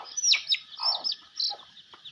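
Chickens clucking close by on a rural farm in Laos, a string of short bursts and clucks in quick succession, with no talking.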